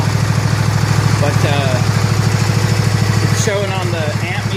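A 1970 John Deere 140 H3 garden tractor engine runs steadily nearby with a close, loud, rhythmic thrum, revving slightly at times, while a person talks over it.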